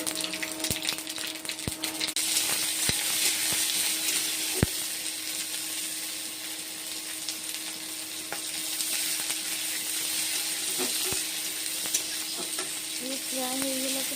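Panch phoron spices fry in hot mustard oil with a continuous close sizzle and scattered sharp pops and crackles, steady throughout without talk.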